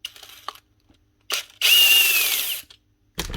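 A power tool whirs in short bursts while screws come out of a Bosch hammer drill, with a longer high whining run in the middle and brief clicks between, close by and loud.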